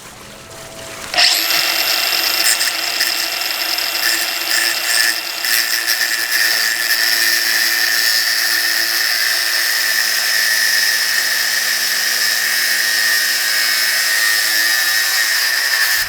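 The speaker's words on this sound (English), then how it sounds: "Take our grinder." An angle grinder cuts through threaded rod on a ski build, spinning up abruptly with a loud, steady high-pitched whine that holds unbroken to the end, close by and alone.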